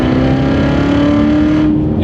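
A 2015 Chevrolet Corvette Z06 engine roars loud and steady at high revs with a sustained tone, close by, then eases slightly toward the end.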